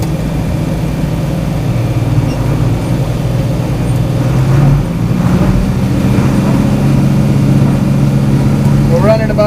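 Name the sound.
tractor engine running baler at about 1800 RPM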